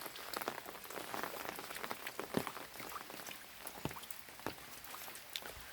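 Steady rain falls on a vegetable garden where rainwater is being collected, a dense continuous patter with scattered sharper drops, close and even throughout, with no voices.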